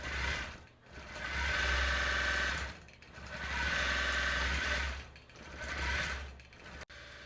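A Gammill longarm quilting machine stitches an edge-to-edge pattern across a quilt, its motor whirring loudly in long sustained runs that dip briefly between passes, ending with a sharp click.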